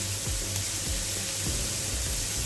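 Chicken malai kabab pieces pan-roast over a low flame, giving a steady soft sizzle with a few faint scraping stirs and no talking.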